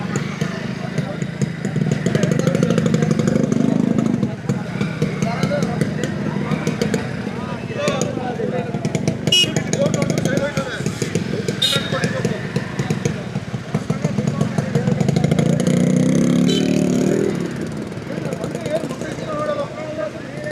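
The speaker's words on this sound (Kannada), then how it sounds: "ಬೈಕು ಓಡ್ಕೊಂಡಿದೆ." A motorcycle engine runs steadily on a rainy hill road at Male Mahadeshwara Hill, a continuous low rumble that surges around two points, with people talking over it throughout.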